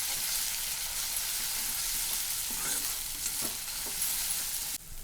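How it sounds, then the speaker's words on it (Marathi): A paste of ginger, garlic, coriander and coconut fries in hot oil with a loud, steady close sizzle, broken by a few soft stirring scrapes, and no talk. "तर ही वाटण आता तेलामध्ये छान असं तळू द्यायचं आहे"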